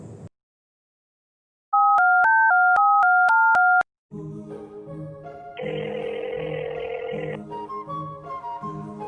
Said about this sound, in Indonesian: Kagak berapa lama, Babe nelpon Enya.